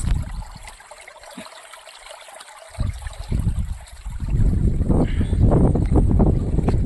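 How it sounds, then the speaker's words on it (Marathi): Stream water rushes and splashes steadily in a mountain ghat with small waterfalls, getting louder and fuller partway through, with some wind or engine rumble underneath. "पाणी किती छान वाहत आहे पाण्याचा आवाज"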